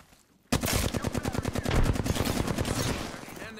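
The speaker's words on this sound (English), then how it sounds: "I'm taking fire" Automatic gunfire in the battle-royale shooter Apex Legends: a long, loud burst of rapid shots starting abruptly, firing at a steady fast rhythm for about three seconds with no talk over it.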